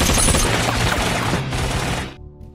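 Dense rapid gunfire in a film rattles in a loud continuous burst for about two seconds, then cuts off abruptly, leaving a faint low hum.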